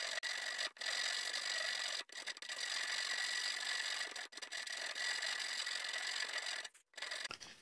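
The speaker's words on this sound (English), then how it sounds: "Here I'm actually using a rasp to remove the material and to form the rounded corner" A rasp files a rounded corner into particle board in long, continuous scraping strokes, each broken by brief pauses between passes, close and steady.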